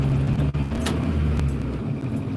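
A car drives along a road in Anchorage, Alaska, heard from inside as a steady engine and tire rumble with road noise, with a couple of brief clicks and swells along the way.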